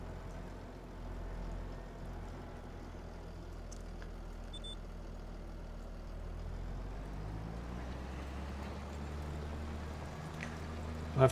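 A tractor drives through slushy winter fields in Farming Simulator 25, its low engine drone rumbling steadily and evenly throughout, with no talk over it.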